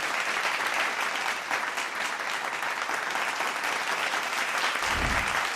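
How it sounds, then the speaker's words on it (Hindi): Loud, dense applause from an audience welcoming the singer on stage at the Ganga Kinare Music Festival in Varanasi, a steady wash of many hands clapping throughout. "आइए सर, जोरदार तालियों के साथ स्वागत करिए"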